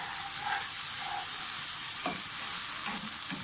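Tomatoes fry in a pan for a cabbage dish, a steady close sizzle with soft stirring scrapes throughout.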